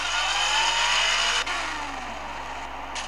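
Cartoon police car being driven off, its engine revving in a continuous, rising whine that holds steady for a few seconds with a brief dip midway, no voices over it.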